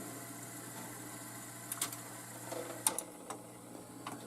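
A Rock-Ola jukebox mechanism, misadjusted and trying to pick up a record, whirs steadily under a low motor hum, then gives a few sharp clicks and clacks near the end, heard close up with no talk.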